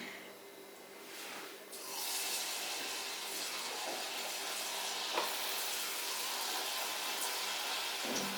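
Chickpeas fry in oil in a pan over a low flame, giving a steady, continuous sizzle with a few light scrapes and stirs, close and fairly loud, with no talking.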